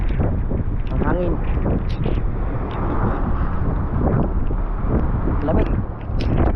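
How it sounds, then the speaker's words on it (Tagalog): Strong wind from Mauban buffets the microphone aboard an anchored boat up on its top deck, a constant loud rushing roar that runs under people talking. "Ang hangin."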